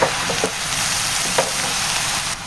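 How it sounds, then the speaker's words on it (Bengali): Noodles stir-fried with mixed vegetables in a pan give a loud, continuous sizzle, broken by a few sharp spatula scrapes and taps. No one speaks. "এবার নুডলসটা দেওয়ার পরে ভালো করে মিশিয়ে নিতে হবে সবজির সাথে।"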